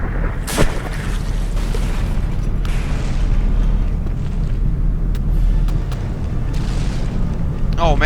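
Warship cannon fire in the game From The Depths during a battleship tournament, a deep boom early on over a continuous low rumbling battle din with scattered distant impacts.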